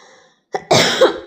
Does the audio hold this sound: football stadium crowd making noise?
no